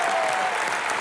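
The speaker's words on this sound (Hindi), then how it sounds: "जोरदार तालियां मिस्टर सुनील गावस्कर के लिए।" Studio audience applause for Sunil Gavaskar on a comedy show set, a dense, loud, continuous wash of clapping.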